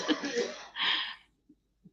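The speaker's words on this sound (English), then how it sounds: "There's still coughing going on in my house, as you can tell." Coughing inside a house, a burst of several rough coughs followed by a trailing exhale, then two short faint coughs spaced apart, heard fairly close.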